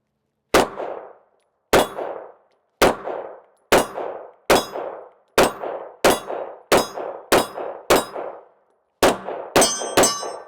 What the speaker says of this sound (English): we're gonna shoot the first couple of rounds through here and just kind of give you a general idea on how this gun shoots